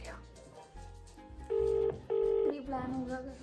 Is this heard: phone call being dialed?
yes